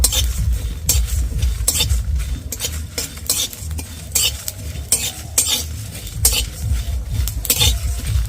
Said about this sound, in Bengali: এবারে দিয়ে দিচ্ছি গোটা জিরে গোটা ধনে মৌরি একসাথে ভালোভাবে নেড়ে নেব